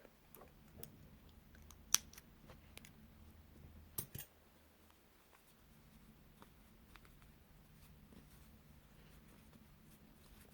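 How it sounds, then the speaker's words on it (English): Scissors cutting crochet thread on a crocheted strawberry: a couple of faint, crisp snips close by, separated by a few seconds of very quiet room tone. "Cut this thread."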